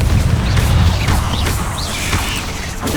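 A Confringo fire spell explosion in Hogwarts Legacy, loud booming blasts and crackling mechanical impacts rolling continuously over a few seconds, with no talking.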